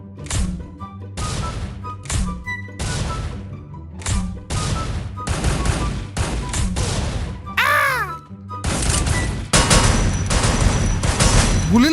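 Rapid gunfire and bursts from an online shooter game match, with repeated loud shots and impact thuds in quick succession throughout, plus a brief whooshing sweep, heard close and mostly without speech.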